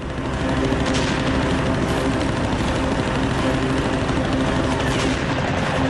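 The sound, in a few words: machine gun fire from a Japanese Oscar fighter plane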